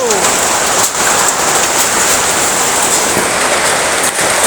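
Heavy rain pours in Gazipur, a loud, unbroken roaring hiss of water beating on surfaces close by, with faint voices partly buried in the downpour.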